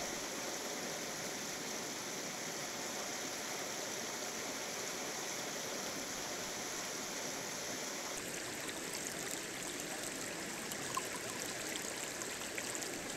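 A salmon stream on Vancouver Island flowing steadily, a dense, continuous rushing and babbling of water close by, unbroken and without voices.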